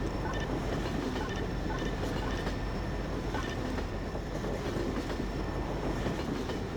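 A train running in Garry's Mod (Gmod), with a steady rumbling roll and a faint clickety-clack of wheels carrying on without a break for the whole stretch, close and fairly loud, with no voices.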